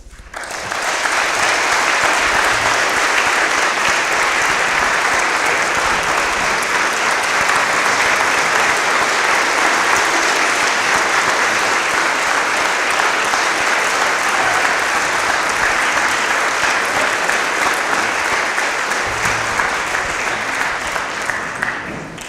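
An audience at a career day keynote address in Darlington gives loud, sustained applause. Dense clapping continues evenly for over twenty seconds with no break.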